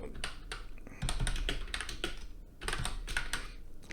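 Rapid keyboard typing on a computer while a LifterLMS membership site menu is set up, with irregular clusters of close, crisp key taps running the whole time over a faint room hum.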